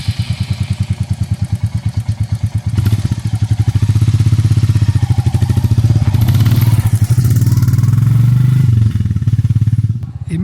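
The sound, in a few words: Royal Enfield Meteor 350 motorcycle riding two-up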